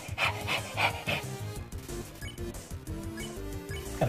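Rapid panting from Lesser Dog in the video game Undertale while it is petted, several quick breathy huffs over game music, fairly faint and with no talking.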